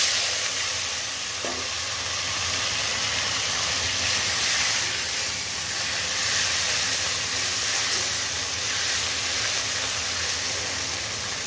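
Chopped onion and tomato sizzle steadily in a pan, a continuous close hiss of frying with no talking.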